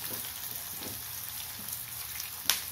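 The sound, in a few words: large onions sautéing in oil for coconut dal curry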